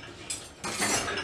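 Dishes and cutlery clink and rattle as a dishwasher is loaded, with two close bursts of metallic and ceramic clatter, the second louder and longer, and no talking.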